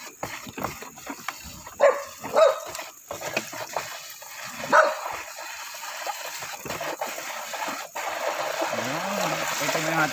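A few dog barks ring out at moderate distance, a pair close together and then a single one, before a steadier background noise takes over.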